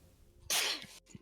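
A single sharp, loud sneeze close to the microphone, a sudden burst followed by a brief breathy tail, during a casual online gaming chat among friends.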